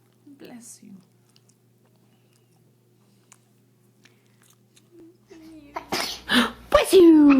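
A baby sneezes near the end, a quick pair of sharp bursts after a mostly quiet stretch, with an adult voice speaking over them.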